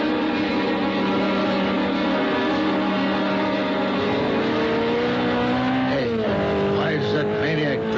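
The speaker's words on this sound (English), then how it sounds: "The sports car looked like a Simonetti. I couldn't tell. Went by me too fast." Sports car engine racing past on a radio drama soundtrack, a loud sustained high-revving whine that holds steady, then drops in pitch as it speeds by, with tire squeal near the end.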